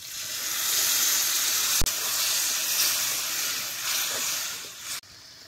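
Water splashed into a hot pan of fried ginger, garlic and spice paste on a wood-fired stove bursts into a loud, sustained steamy hiss, with a couple of sharp clicks and a sudden cutoff near the end.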